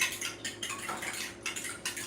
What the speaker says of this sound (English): So I'm just going to beat this egg. I'm doing it with a fork.